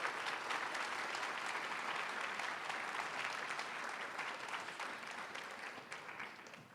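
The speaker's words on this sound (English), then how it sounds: "If we could give them a round of applause," A seated crowd at the Santa Anita 75th anniversary reunion applauds World War II veterans, with sustained, thick clapping from many people that runs evenly for several seconds before easing slightly toward the end.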